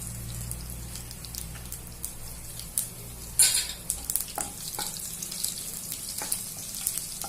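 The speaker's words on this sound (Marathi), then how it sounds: "लसूण जिरे मोरी चांगले लाल होईपर्यंत परतून घेऊ" Garlic and cumin frying in oil for a village-style Maharashtrian zunka: a soft, steady sizzle with a few sharper scrapes and clatters of stirring, fairly quiet and with no talking.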